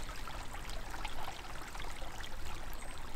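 A stream runs on a spring walk toward a canal lock, a continuous close rushing and babbling of water with no voices.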